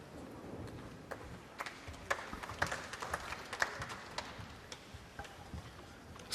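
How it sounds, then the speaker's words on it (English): Scattered, sparse clapping from a small crowd at a pool championship match, a handful of quiet, uneven hand claps spread across the moment with no talking. "Smattering of applause for the escape"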